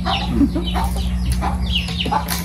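Chickens cluck in short bursts close by, over a steady low hum and background murmur.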